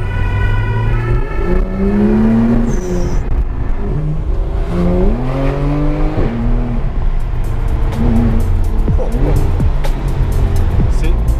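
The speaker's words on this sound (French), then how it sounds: "C'est juste une voiture effectivement de course." A Porsche 991 GT3 engine roars loudly from inside the cabin in Paris, revving up through gears with repeated rising pitch sweeps and brief drops between shifts.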